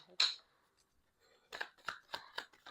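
Tarot cards shuffled by hand: one sharp papery burst, a pause, then a run of rhythmic riffling flutters, close and moderately loud with no speech.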